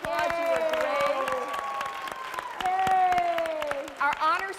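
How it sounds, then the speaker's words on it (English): Applause from a student audience at Northwest School of the Arts during a conversation event, heard beneath a prominent voice that carries over the clapping, with cheering rising near the end. "give yourselves a great round of applause"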